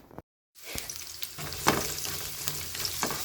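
Tortang giniling, a ground-meat omelette, frying in a pan with a continuous sizzle and a few sharp scraping stir clicks after a brief silent gap at the start.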